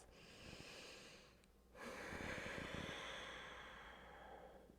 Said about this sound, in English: 2 more full deep breaths.